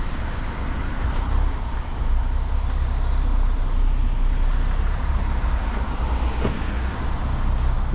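Cars and heavier vehicles roll past on a main road close by, producing a continuous loud roar of tyres and engines with occasional swells as each one passes. No voices are heard.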